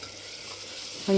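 Tempering for bottle gourd sizzling in a pan, a steady, fairly quiet hiss that swells slightly at the very end, close by with no voices.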